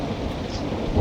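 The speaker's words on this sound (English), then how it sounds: "I'm sorry Craig, we're struggling to hear you over the noise of the thunderstorm" Continuous roar of a heavy thunderstorm in the UK, deep rumbling thunder over steady hissing rain, loud and close throughout.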